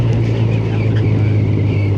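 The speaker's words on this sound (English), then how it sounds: "So I'm going to show you how to rev match in slow motion, right?" Motorcycle engine running steadily during rev matching, a loud, close, continuous low drone with constant wind-like rumble and no clear rise or fall in revs across two seconds.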